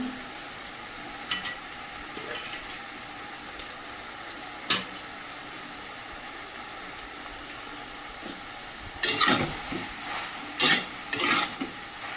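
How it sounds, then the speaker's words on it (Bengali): A Bengali vegetable chorchori cooked without added water, being sautéed and stirred in a pan, with a steady sizzle under scattered scrapes and clinks of a spatula that grow busier and louder toward the end. "এদিকে চচ্চড়িটা ভালো করে কষানো চলছে"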